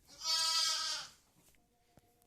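One long, loud bleat from a sheep outdoors carries for about a second, then fades into quiet with a few faint knocks and a thin tone behind it.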